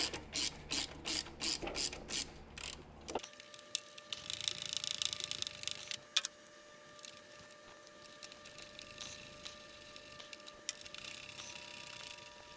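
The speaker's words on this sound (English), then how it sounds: "So the longer your ratchet handle, the better life is going to be, easier." A ratchet works loose the bolts on a motorcycle, first with a rapid run of close, loud clicking pawl ticks, then quieter intermittent clicks and mechanical rattles.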